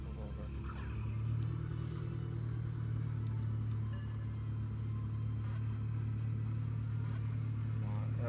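A car's engine hums with a steady low rumble from inside the moving vehicle, constant and moderately quiet throughout, with no clear speech over it.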